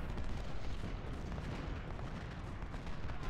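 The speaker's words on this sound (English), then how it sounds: "Agut and Lewis fire at this tiny ass Yankee brigade of 300 men" Massed rifle and artillery fire from a Civil War battle at Chickamauga in the Ultimate General strategy game, a dense, continuous roar of shots with no break.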